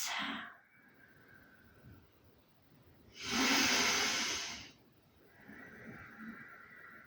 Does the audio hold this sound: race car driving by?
no